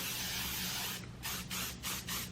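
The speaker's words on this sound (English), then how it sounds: "For dry hair, I like to use an aerosol one. This one is from Moroccan Oil, and I just spray this throughout my hair." Moroccan Oil aerosol heat protection spray hisses onto dry hair in several short bursts, a close, fairly loud broadband hiss broken by brief pauses near the end.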